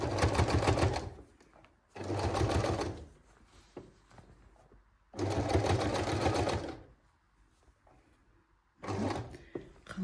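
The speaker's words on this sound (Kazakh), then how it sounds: "Осыны тігіп қарайын." Sewing machine stitching around the edge of patchwork fabric, four fast rattling runs of needle strokes, each a second or two long, separated by quieter pauses with small handling clicks.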